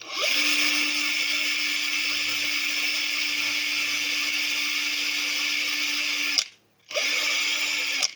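Small rotary drill fitted with a 0.5 millimeter bit, boring into an antique Hohner Marine Band diatonic harmonica: a steady, high-pitched whine that runs for about six seconds, cuts out briefly, then starts up again.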